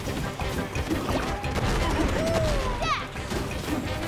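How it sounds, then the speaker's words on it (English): Heavy crashing impacts from gold being smashed in the video game Donkey Kong Bananza come in a rapid, thudding flurry, with game music and chirpy effects running alongside. "so they're just smashing gold here"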